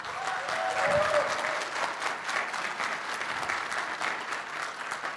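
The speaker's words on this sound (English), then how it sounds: "a big round of applause for the whole team" A crowd at an Oriflame contact center awards event applauds the whole team, steady broadband clapping lasting throughout, swelling slightly near the start and holding at a moderate, roomy level.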